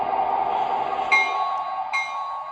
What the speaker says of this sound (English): Bell sounds good.